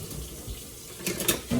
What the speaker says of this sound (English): Ella's helping me wash dishes.